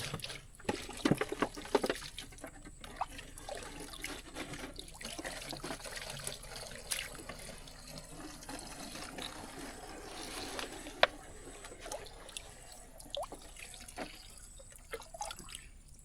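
Water splashes and drips softly as villagers scoop drinking water from a clean, clear spring, a faint close trickle with scattered small splashes over quiet outdoor background.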